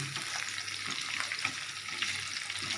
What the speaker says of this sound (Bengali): এবার টমেটো একটু নাড়াচাড়া করি